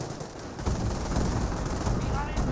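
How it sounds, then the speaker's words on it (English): Grenadiers firing rifles in Company of Heroes, a busy, continuous spray of gunfire crackle with heavy low rumble underneath, mid-distance and steady. "Grenadiers are firing away"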